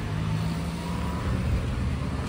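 A car or bus engine hums steadily nearby, a continuous broadband road rumble with a brief rise in low engine tone partway through, no voices over it.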